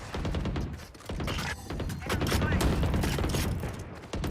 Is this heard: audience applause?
no